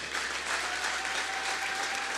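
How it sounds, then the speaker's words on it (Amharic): A church congregation claps steadily in a dense, even wash of applause that carries on without pause, with no voices standing out. "ለጌታ ክብር አጨብጭቡ"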